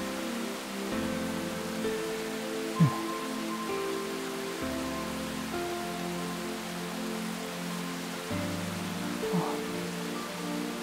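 Steady rain falls as an even hiss throughout, with faint soft taps and low tonal background sounds under it and no voices.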